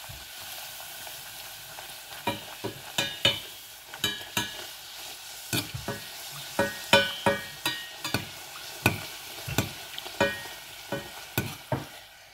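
Puffed luchi flatbread frying in hot oil: a soft, continuous sizzle beneath a steady series of sharp clicks and scrapes as a utensil works the pan. No one speaks.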